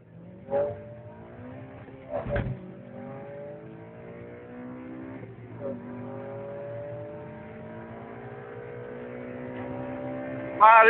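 A 2008 Honda Civic Si with 197 horsepower accelerates through several gears, engine tone rising in steady sweeps broken by brief shift pauses, interior and fairly loud, ending in a sharp high rev.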